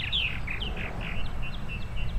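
Purple martins call outdoors in summer, a run of repeated short chirps and gurgling notes at a moderate distance over low background rumble, no talking.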